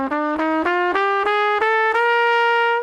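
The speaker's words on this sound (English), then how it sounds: "Moving on to the dominant bebop scale," A dominant bebop scale rises note by note on a single-line melodic instrument, around eight crisp, evenly articulated tones played alone and close, the last one held.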